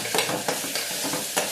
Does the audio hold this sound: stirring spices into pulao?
yes